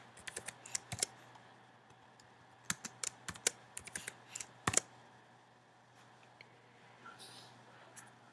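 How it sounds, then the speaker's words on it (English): Fingers tap out a few short bursts of quiet keystrokes on a computer keyboard, close and crisp, separated by brief pauses and a longer stretch of near silence. "I'm going to type in the ES for Espanol."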